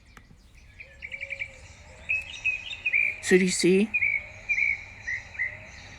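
A Northern Mockingbird sings from a backyard bird feeder, giving repeated bright chirps and short trilled phrases at moderate distance, with a person briefly speaking partway through.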